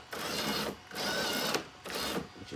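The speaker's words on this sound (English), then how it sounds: "I did, as I said, put the dome motors in, so that spins" A small motor in a 3D-printed R2-D2 dome whirs in three sustained buzzing runs separated by brief pauses, close and fairly loud with no talk over it.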